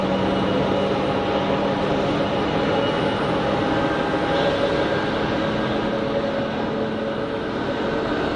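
A Tunisair airliner passing at Geneva Airport, a steady broad engine roar with a faint tonal whine, sustained and even throughout without any talking.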